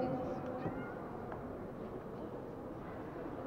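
Devon Rex and Sphynx cats meow at a cat show in Kharkiv, with a few faint calls near the start against a murmuring hall and voices talking.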